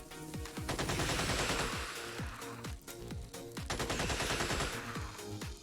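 Gunfire in the video game Xenonauts X-Division, with rapid repeated shots in dense bursts, loud and continuous over music, with no talk.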